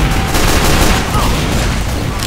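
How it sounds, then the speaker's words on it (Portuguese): Dense, continuous gunfire from a chaotic firefight in Team Fortress 2, loud and close, with overlapping shots merging into one unbroken barrage that barely lets up for its whole short length. "era muito tiro"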